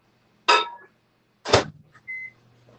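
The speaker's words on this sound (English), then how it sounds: "We're going to melt this in the microwave and then put it in our mixture here" A microwave oven melting half a stick of butter, heard as two short loud bursts of door and mechanical clatter followed by a single brief electronic beep, close by with no talk.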